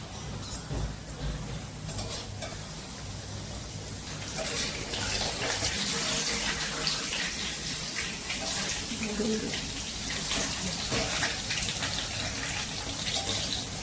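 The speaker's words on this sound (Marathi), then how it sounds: "आता कढईत तेल टाकलंय. फ्रायसाठी मोमोज टाकूया." Momos fry in hot oil in a kadhai, a steady close sizzle and bubbling that grows a little fuller partway through, with a voice talking faintly in places.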